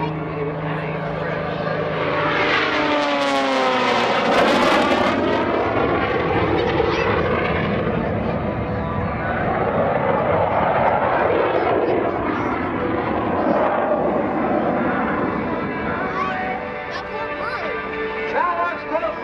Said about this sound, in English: Putting the aircraft through its paces, it's a lay down 8 at Airshow Center.